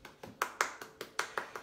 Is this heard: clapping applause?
yes